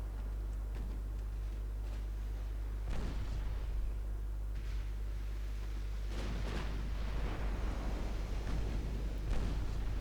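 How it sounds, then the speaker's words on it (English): A battleship's main guns fire in a naval battle video game set in 1895, heard as several deep, rumbling booms at irregular intervals that roll out over a low, steady drone, with no voices. "My main guns are finally engaging the right target."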